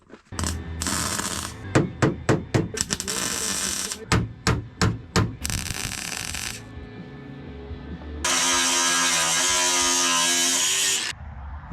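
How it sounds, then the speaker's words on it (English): Welding thin sheet metal on a 1999-2007 GMC Sierra truck hood, done in short bursts: a run of brief crackling tacks, then a steadier buzzing bead and a long loud final pass, all close. "We're going to weld it there."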